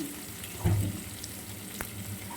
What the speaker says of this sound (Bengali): এবারে দেখো বেগুন আর বড়ি প্রায় ভাজা হয়ে এসেছে